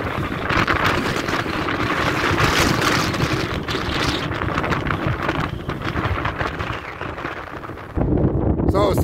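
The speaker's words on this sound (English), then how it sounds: "there was a burst of wind" Strong wind gusts buffet the microphone on an open lava field on La Palma, a loud, continuous roaring rush that holds steady for most of the stretch before dropping briefly and surging back near the end.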